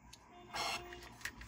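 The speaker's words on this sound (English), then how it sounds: "I press the button on the display and the printer indeed printed the message." A DIY typewriter printer module prints a message with a brief mechanical whir and a few soft clicks, quiet and close, with no talk over it.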